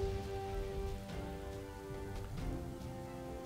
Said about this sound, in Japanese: でも雨降ってるのは不幸中の幸いでしょうか。